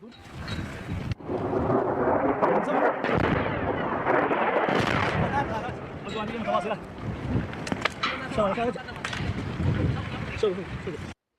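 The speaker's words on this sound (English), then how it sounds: "You're going to hear explosions in this next round." Loud, rumbling explosions from airstrikes with heavy booms and crackling falling debris. Voices can be heard shouting in the background.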